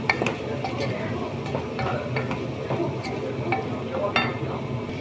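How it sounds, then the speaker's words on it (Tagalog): Shrimp with black pepper and spices being stirred in a pan for an Arabic marak rubyan, a close sizzle with repeated spoon clicks and scrapes against the pan. "Yan, haluin natin ya guys."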